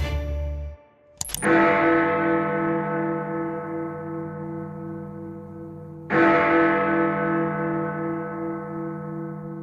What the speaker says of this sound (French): On entend une cloche.